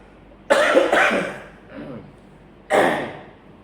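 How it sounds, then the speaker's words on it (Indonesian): A person coughs in two harsh bursts, then a softer third cough after a short pause; close and loud with a quiet background. "Mohon maaf ini batuk-batuk."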